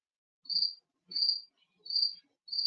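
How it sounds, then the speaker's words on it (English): A cricket kept in an office chirps in four short, evenly spaced high trills, clear and isolated against near silence. "her special cricket in her office, which the lucky cricket"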